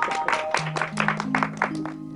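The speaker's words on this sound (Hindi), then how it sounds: "चलो ताली बजाओ।" A classroom of children clapping together for a classmate writing at the blackboard: a dense, steady patter of hand claps lasting a couple of seconds, with a faint tonal hum running beneath.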